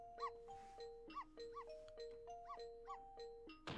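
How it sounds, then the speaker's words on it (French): A dog barking in the Ghost Trick video game, rendered as a string of short, regular synthesized chime-like tones in a steady rhythm, with a louder final hit, quiet overall and with no talking. "elle aboie."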